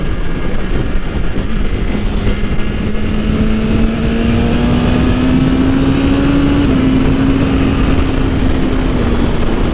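A BMW S1000 motorcycle engine drones on steadily while being ridden down a road, its tone slowly rising and falling with the RPM under loud, constant wind rush.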